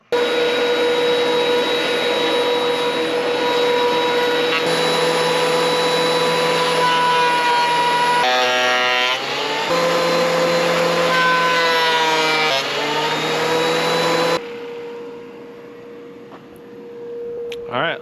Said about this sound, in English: I'm gonna get the table saw, trim down the edges right quick.